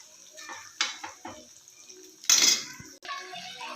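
Green chilies with garlic frying in a pan for North Karnataka-style churumuri, light sizzling under clinks and scrapes of a spatula stirring against the pan, with one louder burst of sizzle.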